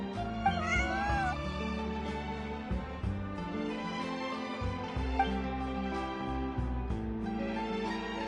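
A cat meows repeatedly in Genshin Impact, plaintive drawn-out mews over soft game music, moderately loud and close, with several distinct calls spread across the stretch.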